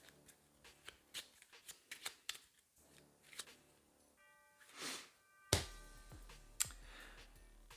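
Playing cards shuffled together for a solo dungeon-crawl board game, several crisp riffling and tapping bursts close by, alone with no voices.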